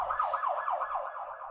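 A wailing emergency vehicle siren, steady and fairly loud, sweeps up and down in a rapid repeating cycle about every fifth of a second, with no talk over it.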